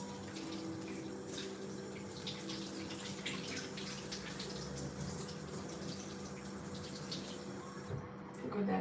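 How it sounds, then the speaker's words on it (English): Cold water runs steadily from a nearby tap while hands are washed beneath it, a continuous splashing hiss that stays fairly even throughout. "I want to wash my hands under cold water."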